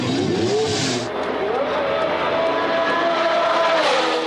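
Loud Formula 1 race car engines scream close by, pitch rising and falling as they rev and shift, with a faint voice buried underneath.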